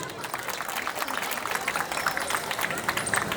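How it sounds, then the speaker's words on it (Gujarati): Students at a farewell function are cheered with a burst of crowd applause, dense steady clapping from many hands filling the room at moderate volume with no voices on top. "એ માટે બધા વિદ્યાર્થી મિત્રો માટે જોરદાર તાળીઓ થઈ જાય."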